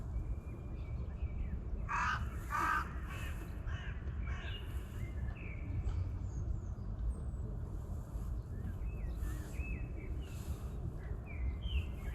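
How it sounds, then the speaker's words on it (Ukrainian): Crows cawing in a short run of harsh calls, then smaller birds chirping intermittently over a quiet outdoor background with low rumble, in Holosiivskyi Park, Kyiv, in spring. "Тихо, співають пташки."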